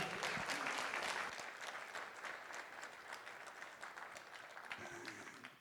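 Audience applause at a First Selectman debate in East Lyme, a full burst of clapping that thins slightly and carries on, with a voice talking faintly beneath it.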